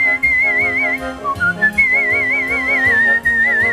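Competitive whistling at the International Whistling Contest in Lewisburg: a loud, close solo whistle carries a sustained melody with wavering vibrato, broken by a few brief pauses and pitch jumps, with no talking.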